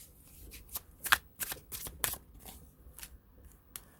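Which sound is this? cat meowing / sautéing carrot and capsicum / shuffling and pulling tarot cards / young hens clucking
shuffling and pulling tarot cards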